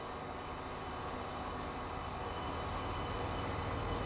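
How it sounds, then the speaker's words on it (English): Electric train motors in the Open Rails simulator game, leaving Marseille station: a continuous mid-range hum and rolling rumble with faint whining tones, steady and quiet, with no voices. "See, it's got the correct motor sounds."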